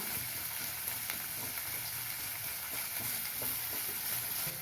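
Vegetables with salt sautéing in a pan for sambar rice, a continuous dense sizzle with faint stirring taps, steady and close.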